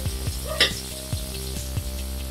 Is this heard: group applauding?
no